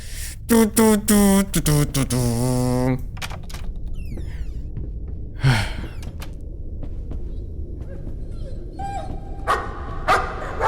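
Dogs bark in the horror game Layers of Fear, a quick run of harmonic barks and yips at the start over game ambience, followed by scattered clanks and eerie effects with a voice talking.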